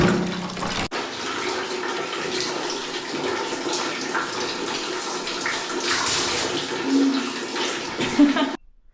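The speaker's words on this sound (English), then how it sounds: "this is how a shower here works. Basically here the hot water will come out very slowly, then I'll have to mix it with the cold water" Water runs from a shower tap in a rural Himalayan farm bathroom, a steady close hiss and splash that holds for several seconds, with a brief knock near the start and faint background activity.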